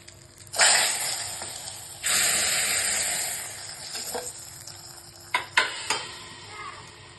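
A hot tempering of dried red chilli and curry leaves is added to a pot of sambar and stirred, giving sharp bursts of sizzle followed by scraping stirs and a few clanks against the pot.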